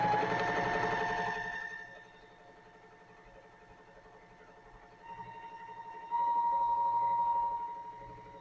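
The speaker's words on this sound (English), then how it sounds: "I sew quite a while because I really don't want any oil on the fabric that I will be sewing" A sewing machine runs stitches across scrap fabric after oiling, its motor whirring steadily with a tonal hum that fades, then picks up again and rises louder toward the end, heard alone.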